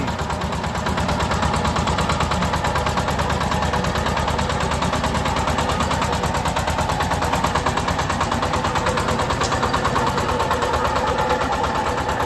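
A Shifeng 244 tractor with a cab and a compressor runs its engine nearby, giving a continuous loud rapid clatter with an even pulsing rhythm throughout and no voices.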